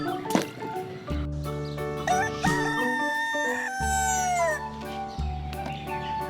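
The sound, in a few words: rooster crowing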